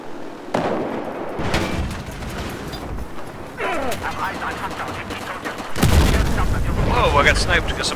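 Heavy gunfire and explosions from the Battlefield 4 video game on the Flood Zone map keep up a loud, continuous barrage, surging louder toward the end, with players talking over the shooting.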